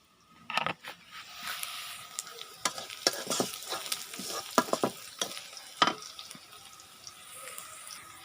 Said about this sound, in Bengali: পেঁয়াজ মরিচ ভাজতেছি